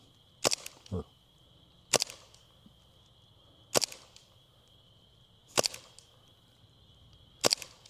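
Airsoft gun firing red tracer BBs outdoors, five sharp single shots spaced about two seconds apart, close and crisp against a quiet background.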